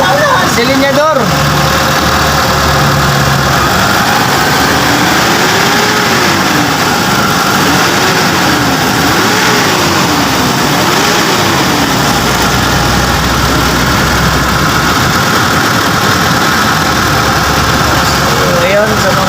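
A Mitsubishi Adventure gasoline engine idles loudly and revs up and down in several short rises and falls, running steadily throughout with people talking over it.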